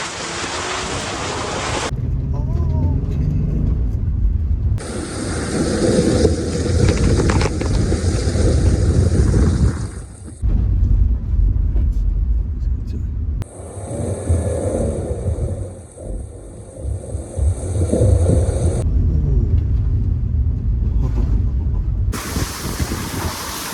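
A 2021 Honda Passport Elite pushes through mud and snow in snow mode, with loud, steady wind and road rumble battering the microphone in long sustained surges and brief drops, and no talking.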